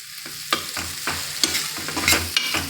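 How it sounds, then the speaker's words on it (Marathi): Potatoes sautéing in a pan, some two to three minutes under a lid, with a low sizzle and repeated scraping and stirring strokes at irregular intervals, close by and without speech. "बटाटा हा याच्यात आपल्याला परत दोन ते तीन मिनिट छान झाकण ठेवून परतून घ्यायचा आहे वाफून घ्यायचा आहे"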